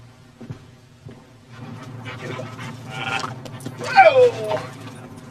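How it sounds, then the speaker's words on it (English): A dog close by whimpers and pants, building to a few higher yelps, while a person speaks over part of it. "Good doggy."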